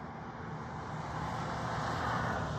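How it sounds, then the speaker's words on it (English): Steady broadband roar of passing road traffic drifts in through an open car window near a golf course, a continuous wash of tire and engine noise that swells slightly toward the end, with no talking. "Sorry if there's some traffic noise in the video, but I had to let some cool air in the car."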